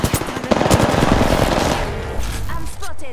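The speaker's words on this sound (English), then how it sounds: "Shots fired and they're hitting me." Rapid automatic gunfire in the battle royale game Apex Legends, a loud close burst of rattling shots for about two seconds, trailing off with a few mechanical clicks and a brief voice.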